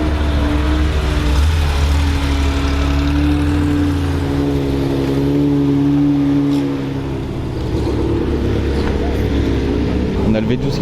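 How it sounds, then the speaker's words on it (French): A Lamborghini V12 engine revs and sings in a passing convoy at a gentleman driver day, a loud sustained harmonic drone that swells and falls, with people talking over it. "On a le V12 qui chante là."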